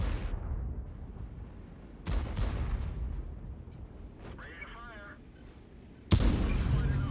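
Tank cannon fire in the World of Tanks video game: two loud, sharp blasts about four seconds apart, each cutting through a steady engine rumble, with a brief mechanical whine between them.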